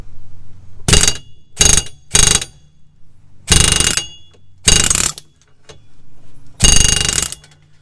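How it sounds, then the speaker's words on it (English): A pneumatic air hammer rattles against a Chevy Impala wheel hub in six loud bursts of varying length, separated by short pauses with an idling hum. "If you guys do buy this impact, this air hammer"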